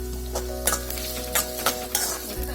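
Ginger, garlic, green chili and curry leaves fry in sesame oil with a steady sizzle, broken by a few sharp stirring scrapes and clicks; the frying stays close and fairly loud with no voices.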